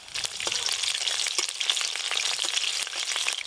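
Dry red chillies, bay leaves and slit green chillies sputtering in hot oil with sugar dissolved in it, a steady dense sizzle with sharp crackles and pops throughout, close and loud with no talk.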